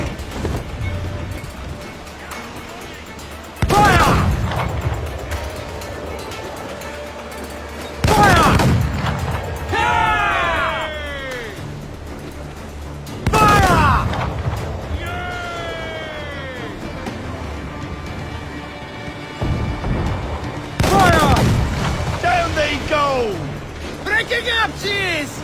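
Ship cannons in Assassin's Creed Black Flag boom in spaced volleys during a sea skirmish, four or five loud blasts with whistling projectiles between them, under shouted crew orders and ongoing battle noise.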